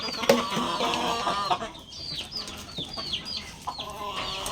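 A hen clucks after laying an egg in a farmyard: a run of repeated, fairly close clucks and squawks, with other fowl calling in the background.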